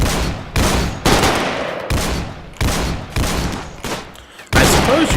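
RimWorld gunfire: sharp, loud shots and short bursts repeating every half second or so in a rapid, irregular fusillade, close and dominant with no talking.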